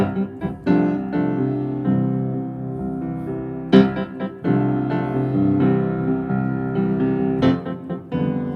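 Piano chords struck with all notes at once, a few sharp attacks each followed by sustained, ringing harmony, played close and moderately loud.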